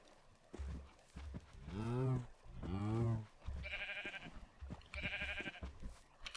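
Two sheep bleat in the video game Minecraft, each a wavering, close and fairly loud cry, with clattering in-game sounds between and after them.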